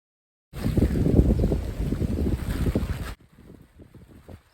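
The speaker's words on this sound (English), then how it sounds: "50-51 kilometer gusts of wind, which threatened to take everything we owned away" Strong gusts of wind of 50-51 kilometers per hour roar and buffet against the microphone for a few seconds, then drop abruptly to a much quieter, fluttering breeze.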